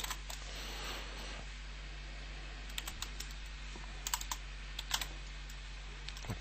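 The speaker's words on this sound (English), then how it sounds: "And just type something." Keys on a computer keyboard clack quietly in irregular bursts, with a few sharper clicks standing out against a steady low hum in a room with a Siemens machine tool controller.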